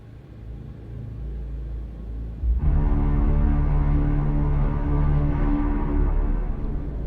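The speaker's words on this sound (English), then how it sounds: "Very deep foghorns," Very deep ship foghorns in a War Thunder video game update teaser: a low rumble swells partway through into a loud, sustained, droning horn blast with rich low tones that holds to the end.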